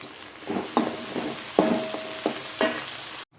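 Onions and tomatoes sautéing in oil in a pan for a vegetable egg noodle dish, a steady soft sizzle broken by several sharp stirring scrapes and clacks, close and without talk, ending abruptly.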